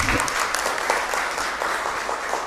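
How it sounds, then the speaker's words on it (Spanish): A church congregation at Mass in a parish in Asunción claps steadily and fairly loudly, a dense wash of hands with occasional sharper individual claps throughout. "Fuerte aplauso para el Señor"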